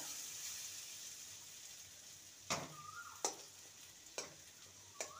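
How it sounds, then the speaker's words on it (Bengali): Potatoes fry in a pan with a quiet, steady sizzle, punctuated by four distinct sharp scrapes or taps as a utensil stirs and prods them. "এই যে আলুটা কেটে যাচ্ছে, আলুটা ভাজা হয়ে গেছে।"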